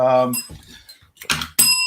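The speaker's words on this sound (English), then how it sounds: "Where the hell is my bell?" A podcast host rings a small bell in a studio, two bright, close rings separated by a short pause, with a brief voice at the start.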